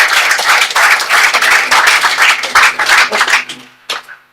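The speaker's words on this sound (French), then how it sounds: "Sous vos applaudissements," An audience applauding to welcome the president at a public event, a loud, dense burst of clapping that thins out and tapers off toward the end.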